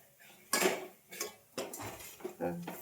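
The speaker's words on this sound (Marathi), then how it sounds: "हे चांगलं फोडणी त्याची फोडणी देऊन घ्यायची आहे" A spoon stirs a spice tempering of coriander powder and turmeric in a pan, giving four or five distinct metallic scrapes and clinks, fairly quiet and close, with little else around them.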